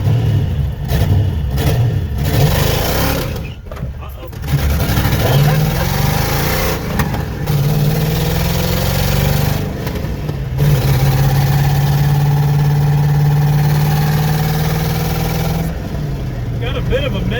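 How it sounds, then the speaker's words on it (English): Junkyard Fox-body car engine revving and idling, loud rough throttle blips between idling stretches, with people talking over it throughout. "I think you adjusted your idle down too far now"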